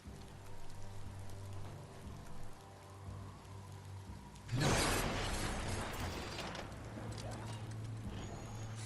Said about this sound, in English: Don't get swept away in the rain.